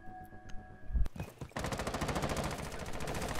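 Automatic gunfire in Rainbow Six Siege comes after a sharp single shot. A rapid, steady burst of rounds follows and continues to the end, loud and close.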